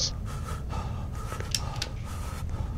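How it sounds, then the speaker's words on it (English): A video game character breathes heavily after running out of stamina: a steady run of ragged breaths and gasps, close and fairly loud throughout, with no talking over it. "I used all my stamina and now I'm slow."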